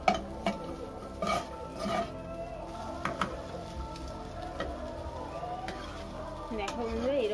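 A spatula scrapes and stirs a chana dal filling in a pan, giving repeated clinking knocks against the metal with a faint sizzle underneath. The cooking is close and moderately loud, and someone speaks over it.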